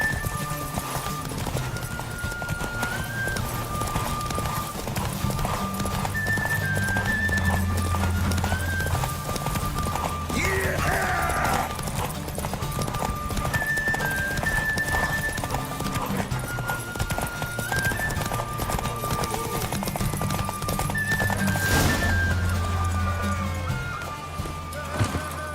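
Horse hooves clip-clop rapidly and continuously through a race in The Witcher 3, with occasional neighs, game music and effects layered beneath the steady galloping rhythm.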